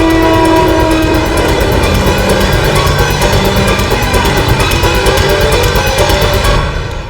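Passenger train rolling past at close range, a loud steady rumble of wheels and cars with a held horn tone early on, continuous for the whole stretch before easing off at the end.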